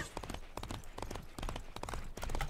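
Rhythmic clip-clop of horse hooves trotting steadily in the video game Disney Infinity, a quick repeating pattern over game background noise, with faint voices underneath.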